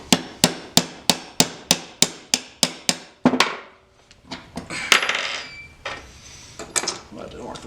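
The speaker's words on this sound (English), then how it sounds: "using the nylon side of my mallet" The nylon face of a mallet strikes during disassembly of a Grizzly Mark I, first about a dozen fast, evenly spaced sharp blows, then a few scattered, duller knocks mixed with handling noise.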